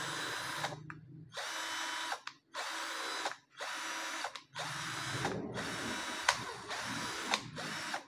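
A Nanwei cordless drill whirs in repeated short bursts with brief gaps between, its pitch shifting as the speed selector is tested, close and clear with no talking.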